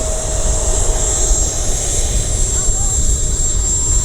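An FMS Futura V3 80mm electric ducted-fan RC jet spools up on grass for a takeoff attempt, giving a steady, loud high-pitched whine with broadband fan rush that holds constant throughout.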